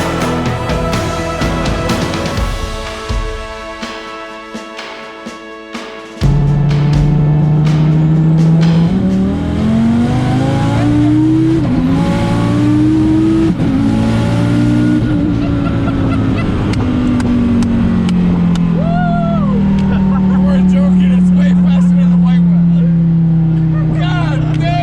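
A 2500 bhp Dodge Viper sports car roars loudly up through its revs nearby, its engine pitch climbing and sweeping through gear changes over a long, sustained run after a quieter start.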